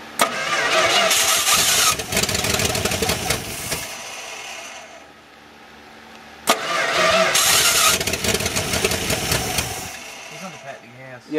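A truck engine cranks and catches twice, each start roaring loudly for a few seconds, with a quieter idle-like lull between attempts; the truck has been leaking oil everywhere.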